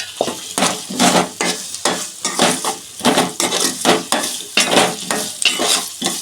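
Moringa drumstick pods stir-fried in a pan for a village-style chicken curry, with a loud, close sizzle under a steady rhythm of repeated scraping stirs and no voices.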